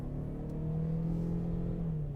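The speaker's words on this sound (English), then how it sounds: "Yes, the engine's noisy, but it isn't unrefined." A 2022 Toyota Sienna XSE minivan, whose engine makes 245 horsepower, accelerates hard as its drone climbs steadily and smoothly in pitch, loud and close from the cabin.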